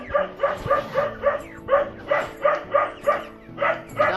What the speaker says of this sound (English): Dogs are barking in the background